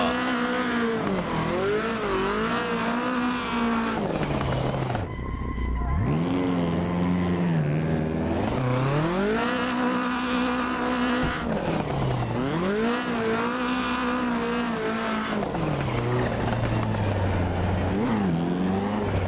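BDC V6 drift car in Assetto Corsa, engine revving up and down in repeated swells with tire squeal through slides, loud and continuous with one short lift-off pause.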